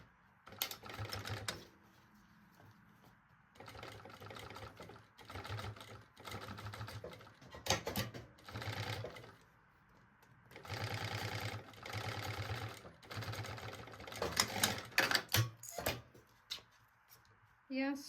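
A sewing machine topstitches a baby backpack in several steady mechanical runs with pauses between them, while someone talks over and between the stitching.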